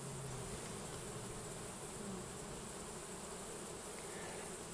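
Honey bees swarm around a backyard beehive in a dense, steady, continuous buzzing hum, close and without voices.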